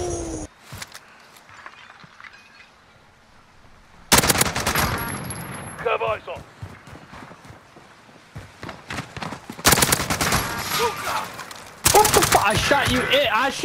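Bursts of automatic gunfire from a multiplayer first-person shooter game, sharp rapid volleys in several loud clusters separated by quieter stretches of footsteps and movement.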